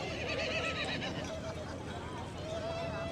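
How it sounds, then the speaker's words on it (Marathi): A horse whinnies at Varsoli Beach on the seashore, a fairly clear neigh heard over steady outdoor ambience and crowd murmur. "घोडा किंचळण्याचा आवाज येतो"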